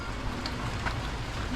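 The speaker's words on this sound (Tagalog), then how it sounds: "Umuulan." Rain falls during a trail run on Mt. Ayaas in Montalban, a dense, even hiss of drops with scattered small taps, fairly loud and unbroken, with no one talking.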